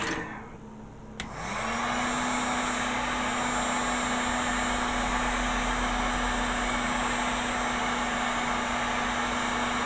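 Heat gun warming the legs of a vinyl model kit, switching on after a brief quiet moment and then blowing as a loud, constant airy whoosh with a steady whine that holds unchanged to the end.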